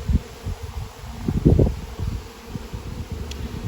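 Honeybees swarming around their displaced queen during a hive rescue, a low buzzing drone with brief louder bursts and rustling close by, no voices.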